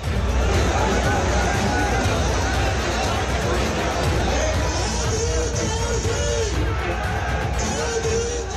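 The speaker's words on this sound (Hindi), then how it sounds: "इतनी भीड़ है कि मंच टूट रहा है" A dense crowd packs an Indian election rally, a steady roar of babble, shouts and cheering filling the air from start to finish, with a reporter's voice running over the noise.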